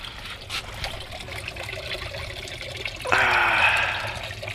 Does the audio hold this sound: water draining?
yes